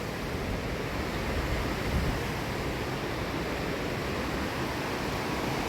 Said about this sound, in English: And waterfalls in the back.